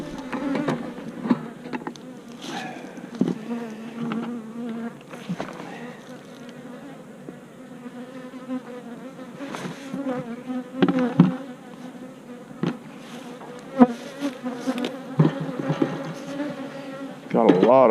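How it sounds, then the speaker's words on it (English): Honeybees buzzing steadily in a dense swarm close by in an open hive, a layered hum with individual insects droning louder as they pass near. "Got a lot of bees in it."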